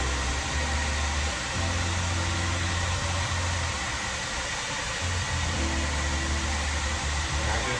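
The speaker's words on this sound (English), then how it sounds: "And then I come in with my blow dryer on cool" A blow dryer on its cool setting drying the hair of a lace frontal wig, giving a continuous airy whoosh over a low motor hum that holds steady and close, with one brief dip midway.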